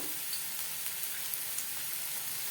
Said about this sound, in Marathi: येथे आपण बारीक कट केलेला कांदा आहे तो बी आपण तेलामध्ये परतून घेऊया